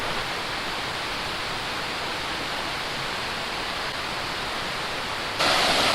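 Small, short waterfalls spilling over layered rocks on a creek falls trail, heard as a steady, dense rushing wash of water that gets louder and brighter near the end.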